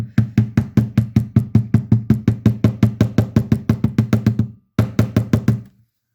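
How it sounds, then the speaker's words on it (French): Rapid, steady metallic tapping on a rounded edge, about five hits per second, continues for several seconds, pauses briefly, then resumes for a short burst before stopping. "je tapote en fait sur l'arrondi pour que ça s'enfonce et que ça griffe plus"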